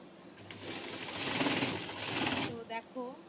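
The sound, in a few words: sewing machine stitching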